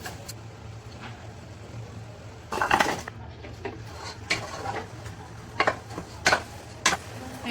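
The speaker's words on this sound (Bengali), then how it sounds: "এখন এটাতে চাল দিয়ে দিব।" Rice poured into a cooking pot for hilsa pulao, heard as a burst of rattling grain and metal clatter followed by several sharp clinks and scrapes of a utensil against the pot, close and fairly loud over a low steady hum.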